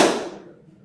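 A single sharp hand clap, close and fairly loud, with a quick attack that decays into a short room echo, heard alone with no talking.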